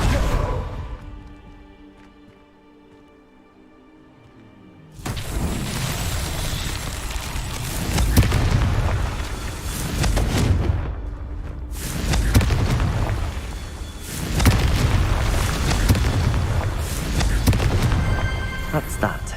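A Confringo fire spell explodes in a Harry Potter-style video game: one loud deep boom, then a long rumbling roar of blasts and whooshes that keeps going for about fifteen seconds.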